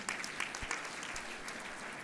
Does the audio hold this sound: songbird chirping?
no